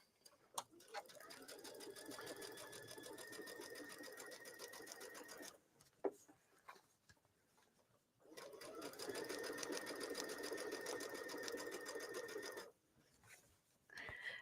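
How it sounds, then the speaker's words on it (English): A sewing machine stitches a long basting stitch in two sustained bursts, a rapid even clatter at close range separated by a brief pause with small handling clicks. "So as I'm stitching, I'm just going to watch this edge right here. Again, I'm using a basting stitch."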